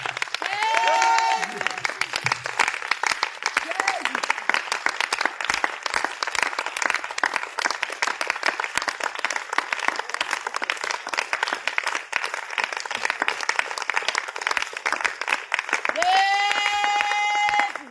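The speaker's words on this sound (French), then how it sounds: "Acclame le Seigneur. Acclame le Seigneur Jésus" A congregation at a night of intense healing prayer in Grand-Bassam applauds and cheers for the Lord Jesus in a sustained, dense wave of clapping, with a voice speaking at the start and again at the end.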